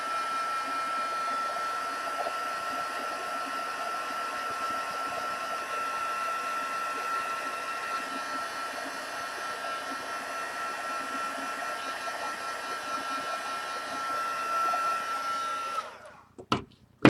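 A hair dryer blows in a steady, even whir while drying a coat of paint on a metallic flower, running continuously before cutting off abruptly near the end.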